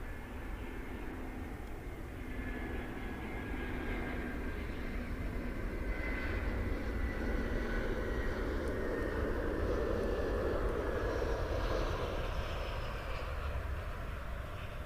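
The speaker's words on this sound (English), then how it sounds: "we have a plane in the air" A jet airliner flies near Munich Airport, its engines a steady, broad roar that slowly swells and drifts with a faint whine, continuous and fairly distant throughout.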